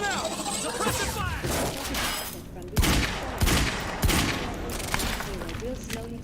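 Rapid bursts of gunfire from the video game Quantum Break crackle through a busy firefight, with several sharp loud shots standing out over continuous shooting and a voice calling out.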